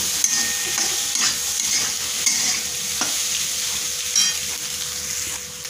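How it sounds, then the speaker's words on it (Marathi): Eggs frying in a pan for anda bhurji, a steady bright sizzle broken by occasional spatula scrapes and taps as the scramble is stirred, close and fairly loud, with no talking. "आता अंडे मस्त फ्राय करून घ्यायचे आपल्याला।"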